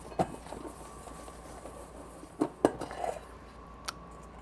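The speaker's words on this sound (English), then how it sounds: "I am going to take this bowl and I'm going to shake these around until that butter melts on top of them" Gnocchi shaken around in a bowl with melting butter, giving a few sharp, sparse clinks and clatters against the bowl amid quiet background, with no talking.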